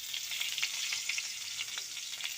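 Onions and green chillies fry in a pan, giving a close, steady crackling sizzle with scattered sharp pops and no talk.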